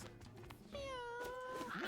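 A cat in the Mewgenics game lets out one long drawn-out meow, clear and close, over a faint steady background hum.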